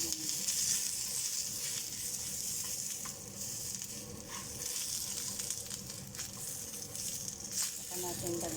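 Pork browns in a pan for pork kaldereta, giving a steady, even sizzle and hiss with faint stirring scrapes throughout, while someone talks quietly over it.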